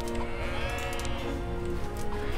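Sheep bleat in the Kyn video game, with several drawn-out, wavering calls layered over a dense, steady game soundscape and heard fairly close.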